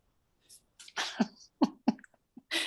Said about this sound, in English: Picked up the sneeze.